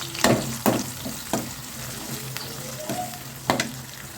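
Finely chopped small onions (shallots) fry in oil with cinnamon for a mutton curry, a steady close sizzle broken by several sharp scraping stirs of a spoon against the pan, with no talk.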